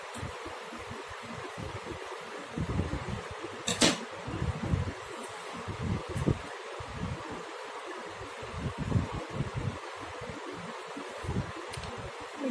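Aloe vera gel and vitamin E from capsules are stirred together into a face serum, giving close, soft, irregular squelching and rustling with a few sharp taps.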